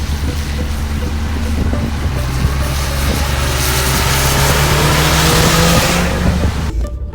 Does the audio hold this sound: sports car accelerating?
yes